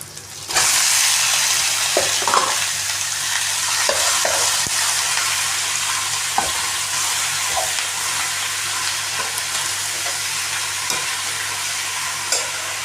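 Curry leaves frying in hot oil in a pan, a loud, dense, continuous sizzle from near the start, with occasional faint stirring clicks underneath.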